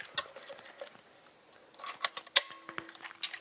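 A quiet film camera shutter being released, heard as a faint, brief mechanical click with a few soft ticking and creaking sounds around it in a quiet room.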